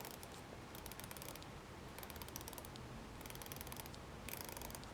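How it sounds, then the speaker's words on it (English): Orient Diver watch's aluminum unidirectional 120-click bezel turned in bursts, each a rapid run of fine ratchet clicks, close and crisp over a steady background hiss, with short pauses between turns. "Let us hear the ratchet sound."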